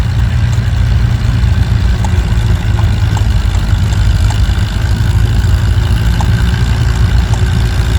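A newer Farmall tractor engine labors steadily while pulling a sled at a tractor pull in Anselmo, Nebraska, a loud, continuous low drone with no break and no voices.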